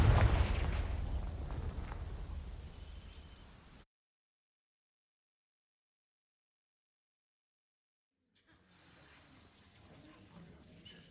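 A Confringo fire spell in Hogwarts Legacy bursts in a loud roaring blast that fades over several seconds. Near-silence follows, then a softer ambient hiss returns.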